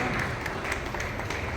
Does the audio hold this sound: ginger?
no